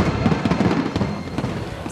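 Dense crackling bursts of fireworks exploding at Macau's International Fireworks Contest, loud and continuous with sharp pops layered over a rumbling wash.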